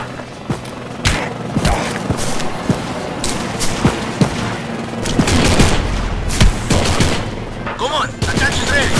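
Gunfire in the video game Postal 4: loud, repeated shots and bursts across the clip, with sharp cracks and booming hits over a busy game soundscape.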